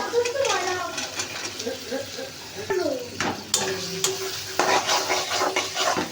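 Green peas tipped into a hot wok and stirred, with scraping spatula strokes, a soft sizzle and metallic clinks against the pan, while a person talks intermittently over the cooking.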